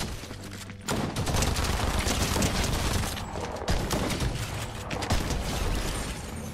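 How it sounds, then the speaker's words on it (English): Rapid SMG gunfire in Fortnite, dense automatic bursts rattling almost continuously with brief gaps and mechanical clicks, loud and close with no talking. "Test out these SMGs on some people right now."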